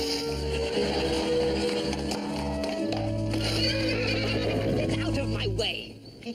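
A horse whinnies in a medieval comedy scene, loud and sustained beneath a dense bed of music and voices, with a fading tail near the end.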